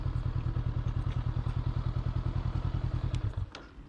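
A motorcycle idles with a steady, throbbing engine pulse on rough forest ground, then cuts out abruptly near the end, leaving a brief clatter and quiet.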